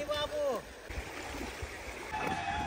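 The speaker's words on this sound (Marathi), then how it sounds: "तर फायनली मित्रांनो आपण आलो आहे वॉटरफॉलला" Flowing stream water near a monsoon-season waterfall rushes steadily and fairly close, with voices talking briefly over the start.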